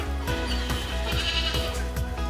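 Goats bleating on a farm that also keeps sheep and livestock guard dogs: a run of repeated, wavering bleats in close succession, fairly loud and near, with no talking.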